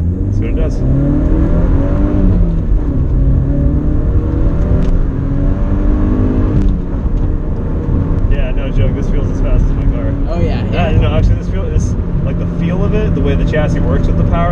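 Porsche 944 with a naturally aspirated 3-liter engine pulls hard under acceleration, its loud droning note rising and shifting through the run while people talk over it inside the car.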